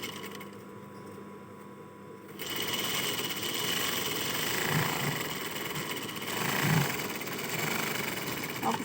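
A sewing machine runs a straight seam along one side of a piece of cloth, starting after a couple of seconds and then humming continuously, close and fairly loud with no speech.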